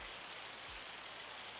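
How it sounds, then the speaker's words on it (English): Hail falling in the video game Farming Simulator 25, heard as a faint, steady hiss of pattering ice and rain on a surface, even and unbroken, with no voices. "Oh, hail."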